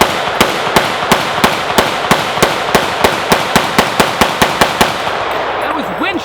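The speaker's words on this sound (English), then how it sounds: "That was Winchester hunting ammunition." A Century C308 rifle fires Winchester hunting ammunition in a fast, regular string of about seventeen sharp, loud shots at an even rhythm outdoors, with no talking between the reports.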